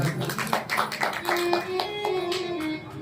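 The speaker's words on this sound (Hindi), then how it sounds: "एक बार माता जी के लिए ताली बजाओ।" A crowd claps in quick, uneven bursts for about three seconds, sharp hand slaps mingling with background voices.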